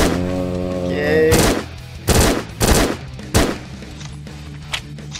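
Uzi fire in a zombie shooting range game, four loud short bursts of gunfire spaced about a second apart, following a brief sustained tone.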